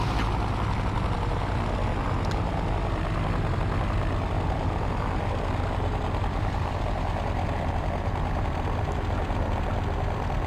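Engine of a DR400 light aircraft in the X-Plane flight simulator game, a constant loud low droning hum that holds steady throughout with no voices over it.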